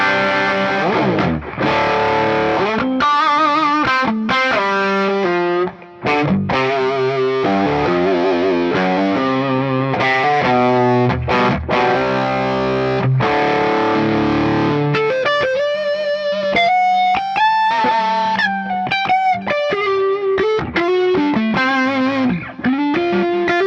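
An electric guitar plays through an amp-in-a-box distortion pedal with tone and voice knobs turned well up, producing a loud, thick, sustained overdriven sound of chords and single-note lines, with no talking.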